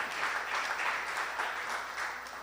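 A crowd applauds steadily for a few seconds, a dense wash of clapping that tapers slightly at the end.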